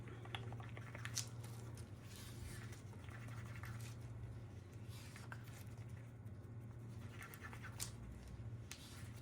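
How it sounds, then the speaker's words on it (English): Colour shift paste is stirred in a small container, a faint soft scraping and squishing that continues steadily over a low background hum. "Just need to stir this one up."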